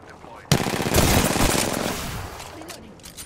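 Bursts of rapid automatic gunfire from the video game Apex Legends break out suddenly, dense and loud, then thin out. Voices talk faintly underneath.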